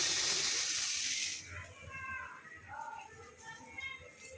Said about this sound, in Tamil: அரிசி போடுறேன் பாருங்கள்.